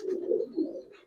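A Giribaz pigeon gives a short, soft, throaty coo of two rolling pulses, close and fairly quiet, with no talking.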